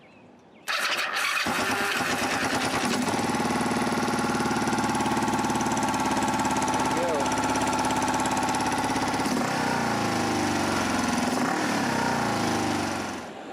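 Kawasaki Ninja 500 motorcycle engine, freshly repaired carburetor, cranks and catches after a moment of quiet, then runs loud and steady at a high hanging idle for over ten seconds before easing slightly near the end.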